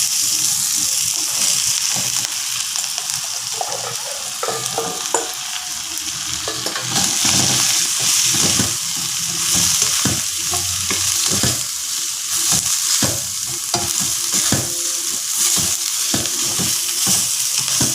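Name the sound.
stirring button mushrooms frying in a pan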